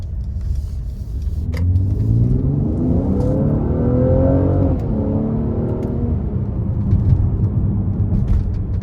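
A 2023 Mercedes-AMG GLC 43 Coupe with a 3.0-litre twin-turbo engine accelerates under a short pull of throttle, its engine note rising steadily in pitch. The sound is a moderate, continuous drone heard from inside the cabin, with road noise underneath.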